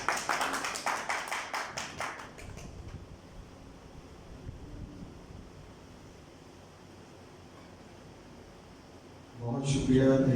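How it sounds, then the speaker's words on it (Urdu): Audience applause at a church speech by a preacher comes in a short burst at the start, then fades to a quiet hall hum, before a voice resumes at the end. "زوردار تالیاں."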